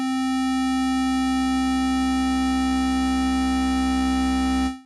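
Sustained tone from a PG-8X synth emulating the Roland JX-8P, steady and rich in harmonics with a strong low fundamental, holding evenly for nearly five seconds before fading away sharply, with no voice present.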